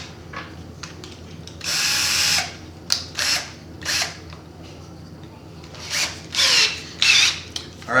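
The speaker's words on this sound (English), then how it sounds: "make sure your drill is not on full power" Power drill driving screws to mount Salomon SNS cross country skate ski bindings, a series of short whirring bursts, one long run then several brief pulses, close and loud with quiet pauses between.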